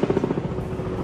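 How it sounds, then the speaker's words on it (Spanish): A helicopter passes overhead in a Mexican city, its rotor chop pulsing in a fast steady rhythm, loud and close for the whole moment. "¿Eso es un helicóptero? ¡Un helicóptero,"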